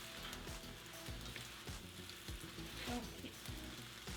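Pad thai noodles stir-fried and mixed in a pan, a quiet continuous sizzle under rhythmic stirring and tossing scrapes.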